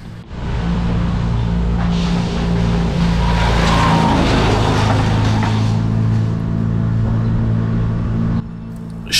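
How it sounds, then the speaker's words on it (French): A truck-mounted wood chipper shreds trees on a Montreal street, a loud sustained mechanical roar with heavy low engine drone and grinding noise close by, passing a cyclist before the noise drops off near the end. "je croise un camion qui déchiquette des arbres."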